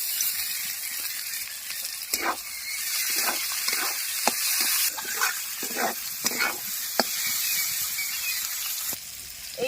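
Prawns seasoned with salt and turmeric sizzle steadily on browned onions in a pan, with scattered scraping and stirring clicks over the continuous frying hiss.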